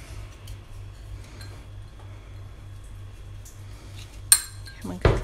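A knife cuts lemon peels into small squares on a board, with faint soft taps under a low steady hum, then two sharper, louder knocks near the end.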